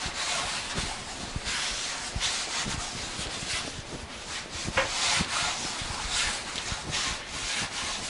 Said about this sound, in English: I'm going to rub it around with my hand even